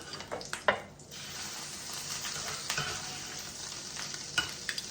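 Seasoned, blackened cod fries in butter in a pan, giving a close, continuous sizzle with scattered pops and a few utensil scrapes.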